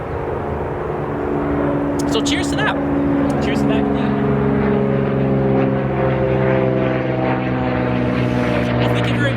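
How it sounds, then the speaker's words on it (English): A propeller airplane drones overhead, a loud, steady, sustained engine hum filling the whole stretch while two people talk and toast over it. "Let's take that plane that just flew overhead"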